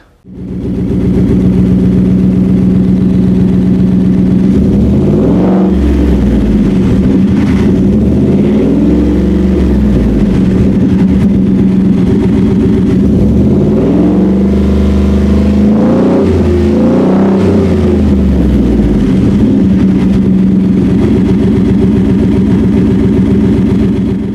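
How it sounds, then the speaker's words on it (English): A 2021 Ford F-150 Lightning Bolt V8 engine idles with a deep rumble, then revs hard several times through the side exhaust, loud and close, before settling back to idle. "give you a sound clip so you can see exactly what this exhaust is going to sound like"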